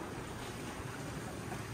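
Steady wind rush and water wash from a sailboat under sail in about 12 to 15 knots of wind off Croatia, a constant close roar with no voices.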